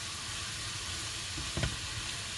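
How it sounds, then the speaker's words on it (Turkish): Chopped leeks sauté in a pan for soup, giving a faint, steady sizzle with one brief scrape of stirring partway through, quiet and without voices. "Pırasaları en az 10 dakika olacak şekilde ve ara sıra karıştırarak çok iyi bir şekilde kavuralım"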